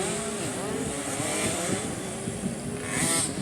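Motocross bikes ride around a practice track on a casual practice day, a steady blend of engine drone from several machines at varying distances, one buzzing a little closer near the end.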